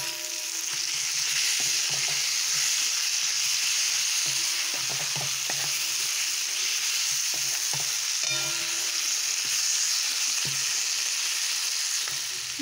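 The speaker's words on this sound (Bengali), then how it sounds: "মশলাটা আমার প্রায় কষানো হয়ে গিয়েছে" Tomato and spice masala fries in a pan for a fried-egg curry, with a constant bright sizzle and frequent soft knocks of a spoon stirring close by.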